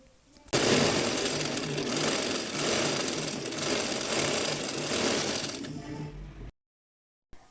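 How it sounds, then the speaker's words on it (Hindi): Sewing machine running steadily as it stitches the crotch seams on both sides of a farshi shalwar, a loud, continuous whirring rattle with a regular beat that runs for about five seconds and then stops. "अब दोनों तरफ जो आसन की सिलाई है वो लगाऊंगी।"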